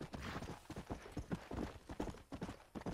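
Horse hooves clatter in the Western video game Red Dead Redemption, a quick, quiet, irregular run of clip-clop beats with no talk.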